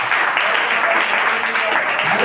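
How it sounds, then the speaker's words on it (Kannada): A church congregation claps loudly and densely in unison, a steady wash of applause filling the hall for a couple of seconds. "ಮೊದಲನಾಗಿ ನಾವು ದೇವರಿಗೆ ಜೋರಾಗಿ ನಾವು ಚಪ್ಪಾಳೆ ತಟ್ಟುವಂತ"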